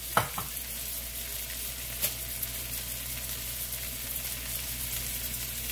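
Turkey burger patties frying over medium-high heat give a steady, fairly quiet sizzle that holds throughout, with a few brief pops and clicks near the start and one more partway through.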